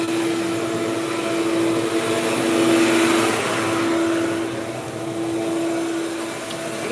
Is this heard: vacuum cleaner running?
yes